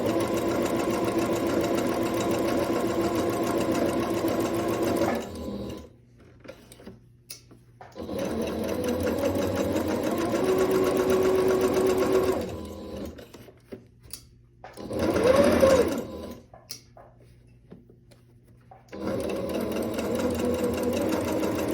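A sewing machine stitches a dress sleeve in fast whirring runs separated by brief pauses, with a short burst midway and a final run at the end; close and clear with no talking.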